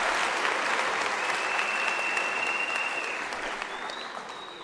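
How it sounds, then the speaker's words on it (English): At a university graduation ceremony, a large audience applauds in a sustained, even roar of clapping that fades slightly toward the end, with a faint whistle-like tone briefly above it. "Can we give them a round of applause,"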